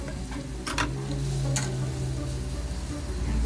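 String beans sizzle steadily in a hot pan for Bicol Express, with a couple of clear utensil clinks from stirring near the start; close and continuous, with no talking.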